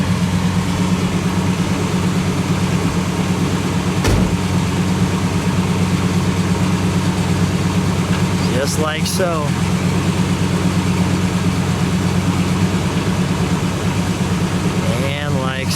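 A 1970 Plymouth Superbird survivor idling with a steady low rumble throughout, while someone talks over it and a few brief clicks and squeaks cut in.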